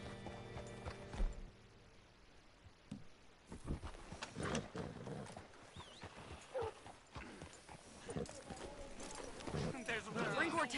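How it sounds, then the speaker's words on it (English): Horse hooves clip-clop in a video game, irregular footfalls moving at a walk, mixed with ambient game sounds and occasional scrapes, while a character talks over them. "Hitch your horse up here."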